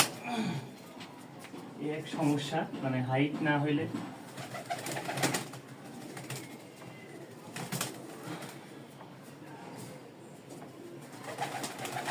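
Hatbaji or ghonbaji flying pigeons coo close by in soft, throaty bursts, with rustling and faint voices in the background, in Mirpur, Dhaka.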